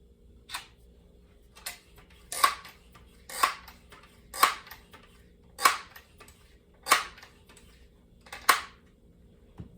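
Pellet air gun shots from a Crosman 760 or Daisy 880 pump rifle, a string of sharp clicking cracks spaced roughly a second apart, fairly faint against a quiet background with no talking.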